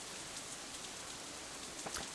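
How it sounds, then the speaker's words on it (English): Rain in a scene from the visual novel Katawa Shoujo falls in a steady, dense patter, with a few close drops standing out toward the end. "The rain keeps coming down harder and harder."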